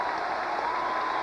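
Basketball crowd at a 1990 Duke at Maryland college game in College Park applauding, a dense steady wash of clapping and cheering held throughout the short moment.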